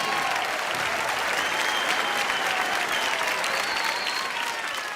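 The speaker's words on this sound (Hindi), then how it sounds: "जोरदार तालियां सभी टीमों के लिए।" Loud, sustained applause from a studio audience at a comedy show, dense steady clapping filling the whole stretch with faint crowd murmur beneath.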